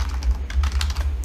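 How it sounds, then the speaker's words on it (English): Rapid keystrokes on a computer keyboard while entering text into a Google Sheets spreadsheet, a quick steady patter of clicks up close over a low background hum. "then in the second column we will type in excluded destination"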